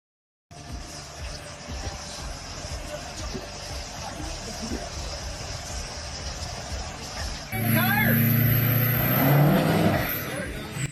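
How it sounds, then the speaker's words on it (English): Cars spinning full 360-degree stunts on a street during a daytime stunt show, engines droning steadily before a sudden louder surge of revving and tire noise near the end, with crowd voices underneath. "Cars spin in full 360-degree moves on the street as crowds enjoy the daytime stunt show."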